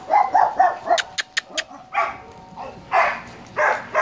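Several dogs, including a small Shih Tzu, bark repeatedly in short bursts at close range, with a quick run of sharp yips in the middle and more barking bursts after.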